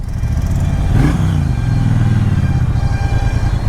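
Triumph Bonneville T120 motorcycle engine running steadily while being ridden, a continuous low throbbing drone at close range with a brief swell near the start, no talk over it.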